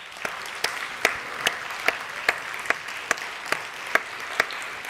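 A school audience at a 6th and 7th grade academic awards ceremony gives the students a round of applause, which starts sparse and quickly thickens into steady clapping under regular louder individual claps.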